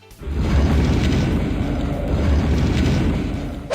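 A loud, sustained booming roar of nearby New Year's fireworks, dense and continuous with rumbling low bursts throughout.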